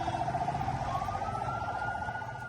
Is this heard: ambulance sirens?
yes